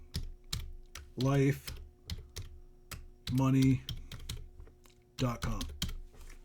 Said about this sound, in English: I'm going to hit delete and just start typing.